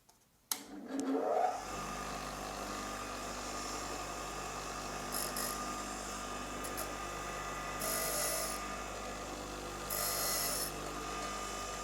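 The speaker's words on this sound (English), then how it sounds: "it's advisable just to sweep up like that, just to make sure that you're grinding all the way to the trailing edge" A twist drill's cutting edge held against a bench grinder, swept up toward the trailing edge: a sharp contact rasp at the start, then a steady whining grind with a low motor hum, continuing alone with faint intermittent high squeals.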